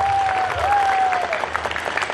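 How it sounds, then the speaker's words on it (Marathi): Crowd clapping together during a clapping game at a cultural fest, a steady patter of many hands with a faint whistle-like tone running through it. "इथे सुजल हात वर करेल तेव्हा सर्वांनी टाळ्या वाजवायच्या"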